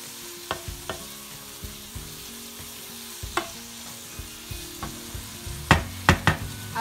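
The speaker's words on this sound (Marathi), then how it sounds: "तर परतून घेऊया आपण चांगला तो सुद्धा।" Fresh jawla shrimp with masala sizzle steadily in a pan while being sautéed and mixed, with sharp intermittent scrapes and taps of the spatula against the pan growing louder near the end, no voices.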